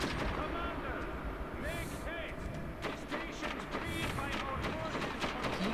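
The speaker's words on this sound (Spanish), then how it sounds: "Hubo tiroteo, se están disparando en la parte de arriba." Gunfire in the post-apocalyptic shooter Metro 2033 crackles steadily, rapid sharp reports layered over a constant rumbling din, with muffled voices faintly mixed in.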